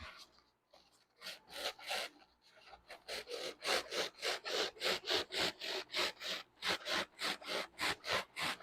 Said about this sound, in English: I'm going to start aiming the blade a little higher as I come out so that it matches this surface for the lip